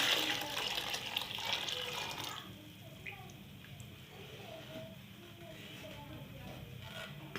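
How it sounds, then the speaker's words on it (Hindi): Chicken broth from boiled chicken is poured into a cooking pot, a splashing liquid gush for the first two seconds, then quieter bubbling and trickling while a voice talks softly over the kitchen sounds. "चिकन बॉईल किया था उसकी यखनी हम डाल देते हैं।"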